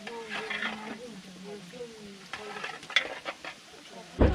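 A grandmother stirs batuk, traditional Magar fritters, frying in a pan in Syangja, Nepal. Soft sizzling runs beneath occasional scrapes and clinks of the stirring utensil, with a louder knock at the end, while a person talks close by.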